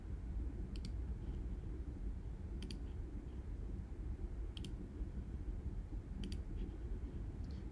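A computer mouse clicks four times at spaced, fairly regular intervals, each click crisp and close over a low, steady room rumble, with no talking.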